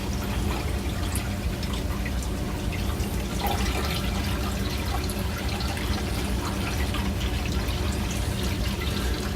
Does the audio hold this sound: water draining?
yes